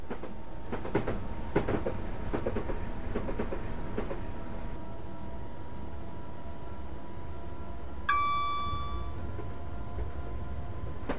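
Train in Train Simulator 2013 running at 100% throttle, a steady loud rumble with clickety-clack rail beats early on and a brief horn-like tone near the end; no talking.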